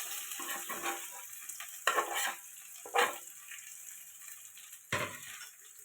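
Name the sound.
potatoes and onion frying in oil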